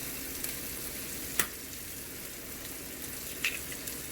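Eggs frying in a pan while poha is cooked, giving a steady, soft sizzle with a couple of brief sharp clicks and no voices.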